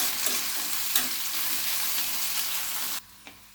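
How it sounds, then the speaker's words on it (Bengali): Chopped onion and green chili frying in hot soybean oil while being stirred, a steady close sizzle with a few utensil scrapes, cutting off near the end to a quiet pause and one light knock. "তেলটা যখন গরম হয়ে যাবে তখন পেঁয়াজ কুচি, কাঁচামরিচ কুচি দিয়ে দিবেন। দেন নাড়াচাড়া করে নেবেন"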